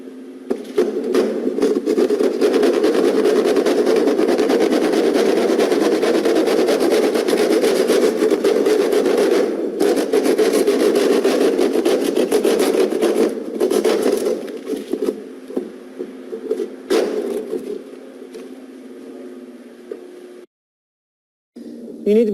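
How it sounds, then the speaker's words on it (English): A keyhole saw rasps steadily through sheetrock to cut a 6-inch wall hole, a continuous rough sawing drone for about fifteen seconds that then thins into scattered strokes and stops. "I'm going to go ahead and cut the 6-inch hole with a keyhole saw through the wall."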